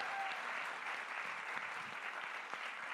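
An audience at a mobility inclusion conference claps for a moderator, steady moderately distant applause filling the whole stretch without talk.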